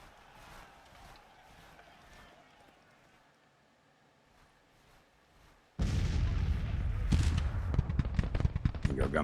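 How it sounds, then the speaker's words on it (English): Civil War artillery guns fire in Grand Tactician: The Civil War, as a quiet stretch of distant battle noise gives way to loud, dense cannon booms and gunfire cracks that continue to the end. "Got my guns firing now."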